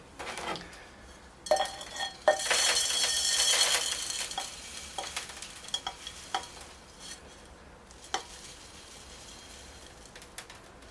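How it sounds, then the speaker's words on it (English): Loose bonsai soil being poured back into a scoop while reworking a small juniper, giving gritty granular rattling bursts in the middle, then scattered light clicks and taps, close and moderately loud with no talking. "So I'll reuse this soil. Put it back in my scoop."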